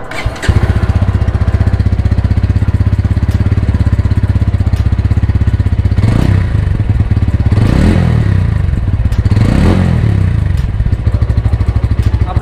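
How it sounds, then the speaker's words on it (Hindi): A 2023 Bajaj Pulsar N150 motorcycle's exhaust note at close range: a steady, loud single-cylinder idle thrum with a rapid regular pulse, broken by three short throttle blips around the middle, each rising and falling back to idle. "फिलहाल अभी एग्जॉस्ट नोट सुनाते हैं आप लोगों को।"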